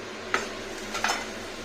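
A spatula flips achari cabbage curry in a pan, giving two quick, quiet scrapes and clinks about half a second apart against a soft frying hiss.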